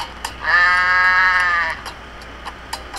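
A goat in the Goat Simulator video game lets out a single loud, drawn-out bleat lasting about a second, followed by faint scattered game clicks and ambient noise.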